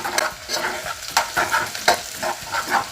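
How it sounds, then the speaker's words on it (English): A spoon stirs tomato paste into a sizzling jollof rice base in a pot, making a steady series of scraping, squelching strokes over a low frying hiss, close and fairly loud with no voices. "Just squeeze a little bit, not much. That's about a tablespoonful? Yes, about that. And then you stir it."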